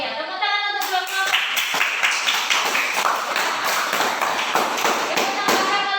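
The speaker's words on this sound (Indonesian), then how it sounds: "tepuk tangan untuk kelompok" A classroom of students applauds a student group, dense clapping from many hands sustained throughout, fairly loud and close.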